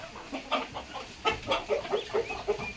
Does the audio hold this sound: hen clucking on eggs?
yes